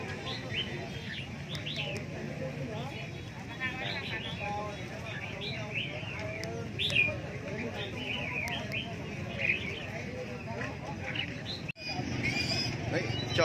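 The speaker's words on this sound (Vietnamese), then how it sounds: "chợ chim hôm nay rất là đông nha anh em nha" Busy outdoor bird market in Vietnam where many caged songbirds, including a hwamei, chirp and trill continuously over a steady hubbub of crowd noise and people talking.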